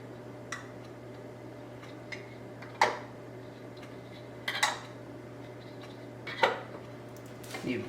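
Metal lids set onto glass canning jars of spaghetti sauce before pressure canning, a few sparse light clinks and taps spread out over a quiet, steady background hum.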